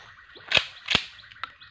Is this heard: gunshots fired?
yes